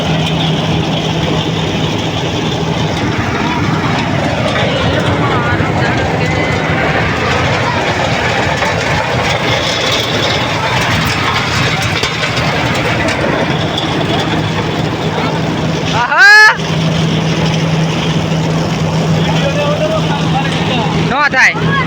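A mini tractor engine runs steadily through a harvest job, a constant mechanical drone with a low hum that persists throughout, close and fairly loud, with a brief sharp sweep near the end.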